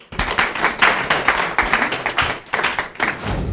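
An audience claps for a contestant walking onto the stage of a junior singing competition, a lively burst of dense, close hand claps that surges and dips in uneven waves for a few seconds.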